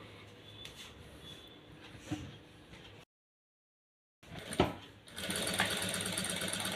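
A sewing machine stitching a design, a fast whirring run of stitches that stops for about a second of silence, then resumes with a clunk and a louder steady buzz.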